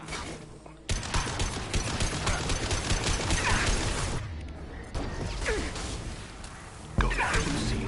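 Gunfire in Mass Effect Legendary Edition, dense rapid bursts and impacts in a loud chaotic battle, continuous with brief lulls and a sharp renewed volley near the end.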